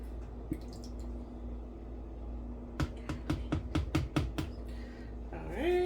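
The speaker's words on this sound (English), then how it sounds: "we are going to mix the lye solution with our oils. We're just going to pour this directly down here." Lye solution poured into oils while making soap bars, heard as a quick run of about eight wet drips and splats after a quiet stretch, close and fairly soft.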